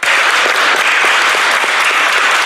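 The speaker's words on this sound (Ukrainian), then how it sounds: "Їх вітали гучними оплесками." Loud, dense applause fills the hall as Lviv's best street cleaners arrive at the city council, a steady wash of many hands clapping with no break.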